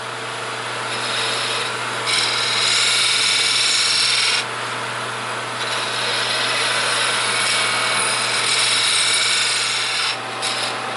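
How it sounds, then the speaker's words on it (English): A lathe parting tool cuts into a spinning wooden stool leg, producing a loud, close, continuous rasping hiss that swells and eases in several long passes over the lathe's steady hum. "So, I'm going to go to the parting tool."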